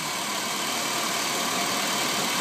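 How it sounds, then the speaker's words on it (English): A car engine idles with a slight misfire, giving a steady, loud mechanical hum with a faint uneven roughness, heard close up and alone. "Engine idle's pretty good. There's still a little misfire."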